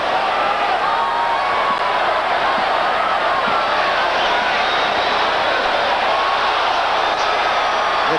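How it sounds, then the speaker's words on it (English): A boxing arena crowd at the Roy Jones Jr. versus Mike McCallum bout reacts to a scuffle in the bleachers, making a loud, unbroken roar that holds steady from start to finish. "The crowd right now apparently is more entertained by a fight going on out there in the bleachers someplace."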